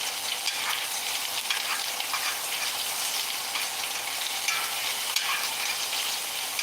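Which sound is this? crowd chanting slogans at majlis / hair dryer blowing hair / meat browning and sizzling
meat browning and sizzling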